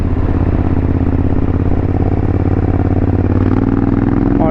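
A modified Suzuki V-Strom motorcycle engine and aftermarket exhaust roar steadily and loudly while riding, with a throaty, rumbling note throughout.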